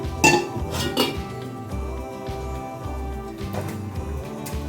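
Metal idli steamer pot and lid clank and clink as they are set down, a few sharp knocks followed by quieter rattles, close by.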